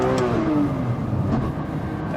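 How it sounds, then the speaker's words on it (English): A Nissan GT-R with a tuned AMS Performance Alpha 12 engine and a failing rear differential gives a loud, strained mechanical whine and rumble, with falling tones as the car loses drive, heard up close and alone. "just heard a nasty sound, and I'm guessing it's the rear diff"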